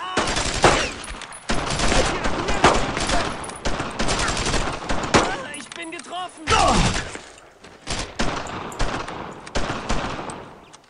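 Rapid bursts of machine gun fire mixed with other gunshots in the World War II video game Brothers in Arms: Road to Hill 30, loud and near, with brief pauses and shouting voices over the top.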